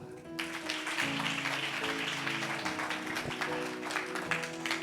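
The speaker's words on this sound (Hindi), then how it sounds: "ताली बजा दो।" A church congregation claps in applause at a Sunday service, steady dense clapping sustained throughout over a faint held musical tone.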